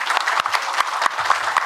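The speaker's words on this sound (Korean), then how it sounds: "우리 발표자분께 박수 부탁드리겠습니다." An audience at an international temple-food academic symposium applauds the presenters, a moderate burst of clapping with a few distinct sharp claps standing out.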